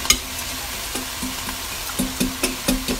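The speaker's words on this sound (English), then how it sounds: "William has cracked two eggs. So, Will, do you want to put them in the bowl? And with a fork, give that a good beat." Fork whisking two eggs in a bowl gives a run of quick, light clinking taps. They start sparse and speed into a steady rhythmic beat near the end, close and clear.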